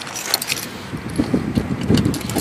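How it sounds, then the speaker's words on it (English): Car keys jangle in a few bright metallic bursts after a 1987 Pontiac Trans Am GTA with a TPI 350 engine is switched off, close by with low handling noise between the jingles. "Take the keys out."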